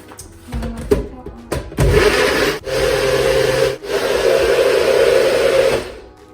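A blender roars loudly and continuously while blending a smoothie after a few clunks and knocks at the start, its motor grinding steadily with brief dips.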